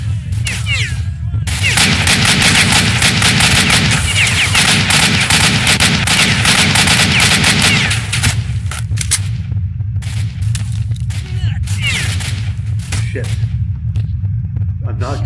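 AK rifle gunfire in the video game Stalker: Shadow of Chernobyl: dense, continuous bursts of automatic shots with heavy rumble, loud and sustained for most of the stretch before thinning into scattered shots.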